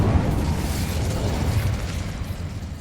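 Incendio fire spell cast in Hogwarts Legacy, a sustained low rumbling blast that roars steadily for about three seconds and stays loud throughout, with no voices over it.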